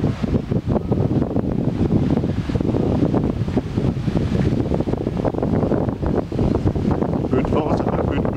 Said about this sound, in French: Un peu de vent, ça fait un peu de bruit, je suis désolé.